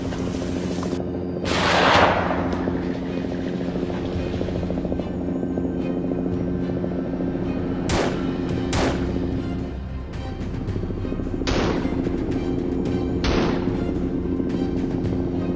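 A hunting helicopter drones steadily overhead during a wild hog hunt in Oklahoma, with several sharp, loud gunshots cracking out at irregular intervals over the rotor noise.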